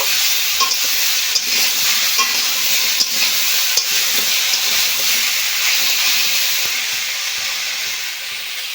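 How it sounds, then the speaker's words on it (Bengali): Mixed vegetables for Bengali shukto stir-fried in a pan without spices, a steady loud sizzle with scraping stirs of a spatula running throughout, close and continuous with no talking. "এখন আমি কোনো মশলা দিইনি সবজিটা ভালো করে কষে নেব"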